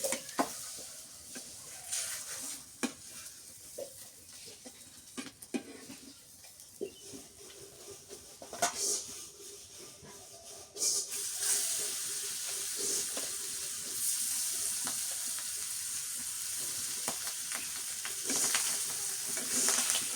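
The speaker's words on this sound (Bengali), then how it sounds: "ভাজি হচ্ছে" Vegetables fry steadily in a pan, a continuous sizzle with scattered clicks and scrapes of stirring that grows louder and denser in the second half, with no talking over it.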